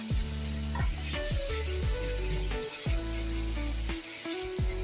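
Black-eyed pea curry frying in a pan, South Indian style, gives a steady hiss of sizzling that runs throughout, partly covered by louder tonal music.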